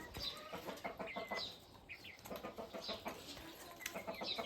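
Chickens on a backyard farm cluck and chatter close by in short, repeated calls, with soft rustling between them and no voices.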